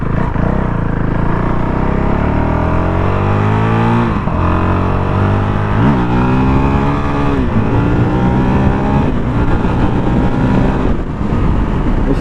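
A Honda CRF450 dual-sport motorcycle on knobby tires revs hard and constantly, the loud, throaty engine note climbing and dropping through repeated gear changes, close up and alone.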